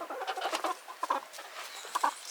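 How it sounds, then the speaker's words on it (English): Hens on a homestead cluck softly in short, irregular bursts, close by, with no talking. "Look at my hens sleeping."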